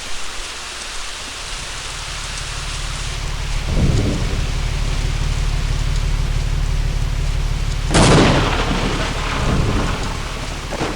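A thunderstorm in the horror video game They Hunger, with steady heavy rain hissing throughout and two loud thunder rumbles, one around the middle and a sharper crack toward the end.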